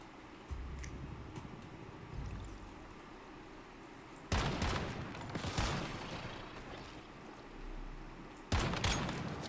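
Gunfire in the Once Human video game crackles in bursts of dense rapid shots, loud and close, separated by quieter stretches, with no talk.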